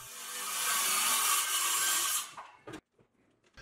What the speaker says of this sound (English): Here I'm cutting 1/4 inch plywood with my circular saw and a straight edge.